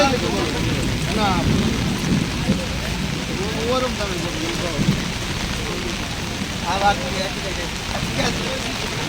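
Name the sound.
rain at a cattle market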